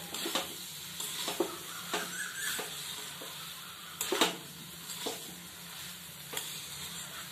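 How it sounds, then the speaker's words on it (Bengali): An egg and potato mixture is stirred in a sizzling frying pan, with a soft continuous fry under repeated scrapes and light clinks of a utensil against the pan, close and fairly quiet. "দেখুন আমি আলুর সাথে ভালো করে এটাকে মিশিয়ে দিচ্ছি"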